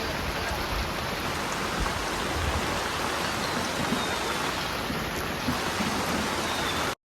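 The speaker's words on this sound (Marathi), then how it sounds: "बघा पाऊस किती जोरात आलेला आहे" Heavy rain pours down in a dense, unbroken roar of drops on surfaces, loud and steady throughout before cutting off abruptly.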